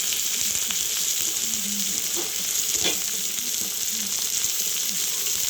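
Onion and slit green chillies sizzle steadily in oil in a pan, with occasional scraping and stirring strokes over a constant loud frying hiss.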